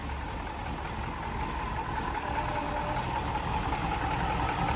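A 1969 Camaro SS 396 big block V8 idles after a cold start, a continuous rough engine rumble heard close and steady with no voices.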